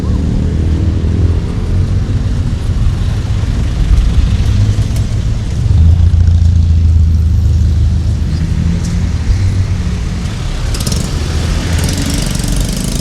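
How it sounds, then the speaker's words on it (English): A Toulon cargo truck rolls along a city street in Angeles City, its low diesel rumble swelling loudest near the middle as it passes close by amid steady street noise. "Nice little Toulon cargo truck."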